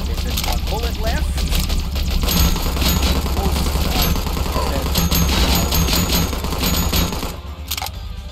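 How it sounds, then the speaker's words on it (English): Video game gunfire pours out in a loud, dense stream of rapid overlapping shots, holding steady for about seven seconds before thinning out at the end. "Can't even see what I'm shooting at for the corpses"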